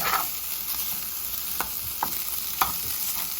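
Shrimp sizzling steadily in a frying pan, a broad crackling hiss that holds throughout, broken by a few sharp clicks and scrapes of stirring, close and moderately loud with no talking.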